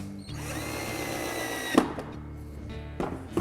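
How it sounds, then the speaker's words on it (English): A cordless electric screwdriver drives a screw into a plastic guttering bracket, its motor whirring steadily with a ratcheting catch near the end and a couple of brief knocks, close by with no talk. "I can use the electric screwdriver to bring it home"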